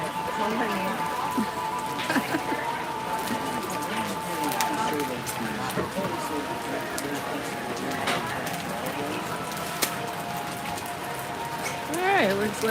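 Rain patters steadily at Universal Orlando resort on an afternoon, a dense, even wash of drops on surfaces, with crowd chatter and faint voices mixed underneath throughout.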